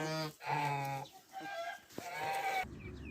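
Farmyard chickens cluck and call close by in a busy, overlapping chorus, with harmonic squawks and short clucks running together over about three seconds.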